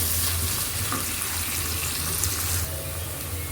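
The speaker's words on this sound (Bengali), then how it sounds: "এখন আমি 1 চামচ লবণ দিয়ে পেঁয়াজগুলোকে ভেজে নেব।" Onions fry in hot oil with a spoonful of salt for a rohu fish-head curry, giving a steady, soft sizzle that fills the whole moment with no talk.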